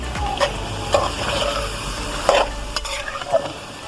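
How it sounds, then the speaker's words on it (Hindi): Chicken frying and being stirred in a pan with roasted crushed cumin, coriander and green chillies, a steady close sizzle broken by repeated scraping stirs of the spoon. "चिकन को मैं भून रही हूँ"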